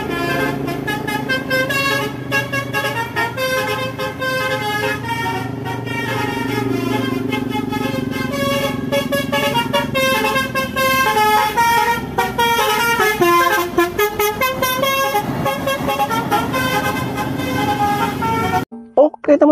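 STJ Draka bus horn sounding a long musical tune with shifting tones, loud and close, played alone and ending abruptly.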